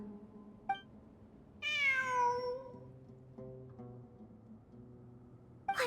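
In Genshin Impact, a cat gives a single long, bright meow that slides downward, followed by soft ambient game sounds and a few faint chimes, with no voices.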